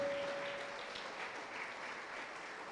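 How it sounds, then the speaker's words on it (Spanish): A church congregation applauds during a Spanish-language sermon, a steady, faint wash of clapping heard from a distance with no talk over it. "¿Puede darle un aplauso al Señor?"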